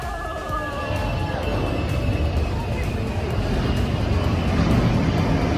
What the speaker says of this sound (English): Watch an enormous military jet make a super low flyover through an Australian city.